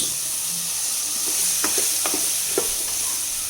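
Potatoes go into a pan of tomato masala for a vegetable kurma and are stirred while frying: steady close sizzle with a few short scraping knocks of the spoon partway through, and no voices.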